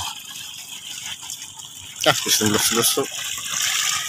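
Water from a rural well in the province, amid rice fields, flows and gushes steadily, with a brief spoken word over the running water.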